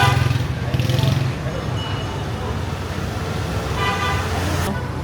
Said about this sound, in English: Dodging scooters and cars is so stressful